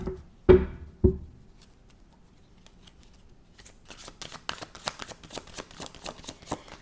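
A deck of cards shuffled in a quick riffle, a dense run of crisp flutters and snaps after two heavier thumps, close and fairly quiet, with no talking.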